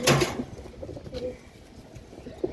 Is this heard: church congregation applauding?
no